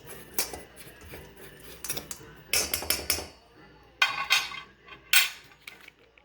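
Crushed graham crackers and sugar mixed in a bowl, heard as close clattering scrapes and taps of a utensil against the bowl in irregular bursts with pauses between.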